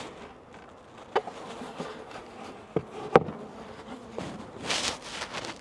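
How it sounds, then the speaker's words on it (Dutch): Honeybees in an opened hive box hum in a steady, faint, continuous buzz throughout, with a few sharp clicks and taps from handling the frames and a brief louder burst of rustling near the end. "Ook weer een mooie bak bijen."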